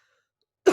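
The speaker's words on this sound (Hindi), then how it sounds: "खांसी मुझे अभी भी आ रही है" A single short cough from a man teaching a physics lesson, abrupt and fairly close, arriving at the very end after near silence.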